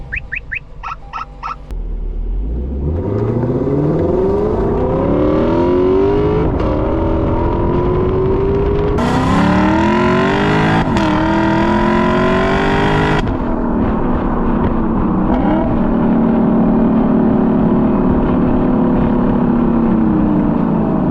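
Lexus LC500 V8 engine in Sport Plus mode, a few short blips and then a loud, sustained rev climbing through the gears with rising pitch and a brief surge, continuous throaty roar throughout with no talk.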